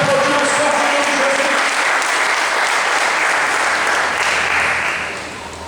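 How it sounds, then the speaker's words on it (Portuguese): A church congregation applauds during a Sunday service, producing a loud, dense wall of sustained clapping that holds steady for several seconds and then begins to fade toward the end. "você pode aplaudir mais forte em nome"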